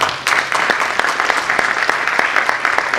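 Applause from an audience at a stage event, with loud, close claps at an uneven rhythm and several distinct sharp hits over a steady clapping wash.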